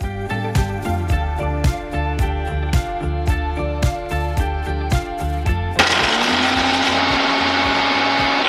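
A kitchen mixer grinder whirs loudly while grinding roasted makhana (fox nuts), first in short pulsed bursts with rattling, then settling into a steady continuous drone toward the end.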